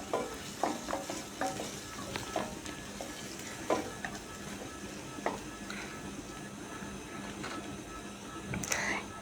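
Masala stir-fried in a pan for prawn dopiaza, a low steady sizzle under repeated scrapes and taps of a spatula, close and moderately loud, with a voice talking in the early part.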